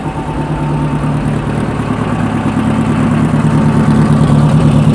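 A Type 4 engine idles at about 800 rpm after a valve spring shim job, giving a steady, close, low mechanical hum with an even, slightly uneven pulse and no other sounds over it.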